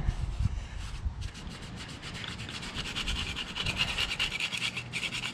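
Rhythmic scrubbing and rubbing of crud from beneath an engine mount on a Toyota 2H diesel engine going into an FJ40 Land Cruiser, a steady close-up brushing that continues throughout with no talk.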